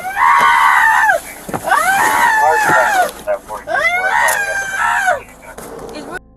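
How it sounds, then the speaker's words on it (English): A woman screams inside a car during a traffic stop, loud piercing wails in several long drawn-out bursts with brief pauses between them. "Inside, her screams still echo,"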